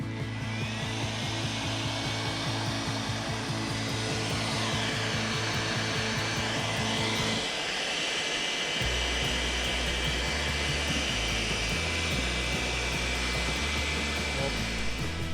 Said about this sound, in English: we're going to use a heat gun to soften it whilst pressing it out from behind